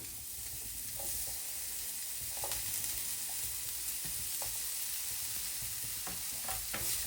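Garlic, onion and capsicum sizzle steadily in melted butter in a pan, a constant close frying hiss broken by occasional clicks and scrapes of stirring.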